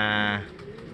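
A homing pigeon, a bird returned wounded after five days missing from training, gives a short loud throaty coo in the first half-second, followed by quieter background noise.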